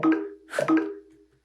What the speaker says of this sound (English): that error sound that brings up when, you know, you press a key and it's not supposed to do anything